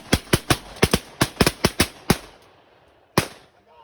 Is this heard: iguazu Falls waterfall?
no